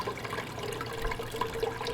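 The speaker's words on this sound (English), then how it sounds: "This time I'm going to turn the water flow down a bit." Water running steadily through a gold sluice used to process material from salvaged IC chips, a constant broadband rush without pauses.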